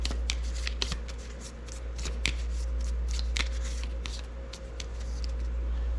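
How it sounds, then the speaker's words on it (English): A target deck of cards for the solitaire naval wargame Spruance Leader is shuffled close by, a steady run of riffling flicks and soft slaps over a low constant hum. "So let's give the target deck a shuffle here."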